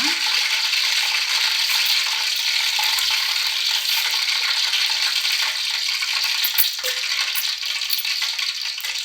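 Mustard seeds splutter in hot oil over a low flame, a dense, close crackling and popping sizzle that carries on steadily, with one brief knock partway through.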